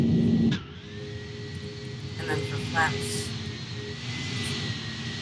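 Airplane jet engines spin up and whine steadily in the flight game Project Flight, with a rising tonal hum and hiss that builds after a brief burst of talk at the start.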